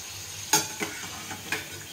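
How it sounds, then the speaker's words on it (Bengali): Raw papaya chips deep-fry in hot oil with a constant close hiss and bubble, and a few light clinks of a utensil moving them about in the pan. "এইভাবে ভেজে ভেজে আমি সব পেঁপেগুলোকে পেঁপের চিপসগুলোকে তৈরি করে নেব"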